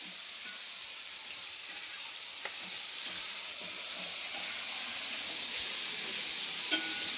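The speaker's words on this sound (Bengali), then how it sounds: "আর এখানে চিংড়ি মাছগুলো ভাজছি।" Prawns fry in oil with a constant, even sizzle heard close by, dotted with faint pops and light stirring clicks, with no voices.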